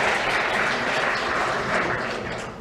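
Audience clapping after a startup pitch at an innovative projects event, steady broadband applause sustained throughout and easing slightly toward the end.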